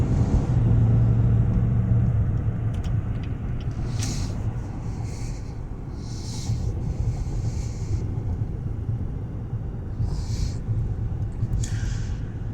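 A repairable-salvage 2019 GMC Yukon Denali on a test drive, its cabin filled with a steady low road rumble and engine drone, with faint clicks and rustles now and then.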